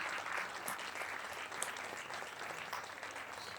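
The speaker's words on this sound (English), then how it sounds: "The crew from Dynatrace, they do deserve an applause." Festival talk audience applauding, a steady faint wash of clapping throughout with no voices.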